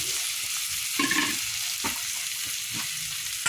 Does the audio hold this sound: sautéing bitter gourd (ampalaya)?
yes